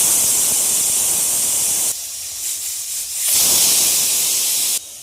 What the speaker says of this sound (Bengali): 2খানা সিটে দিয়ে নেব।